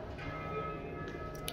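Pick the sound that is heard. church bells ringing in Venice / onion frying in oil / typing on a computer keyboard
church bells ringing in Venice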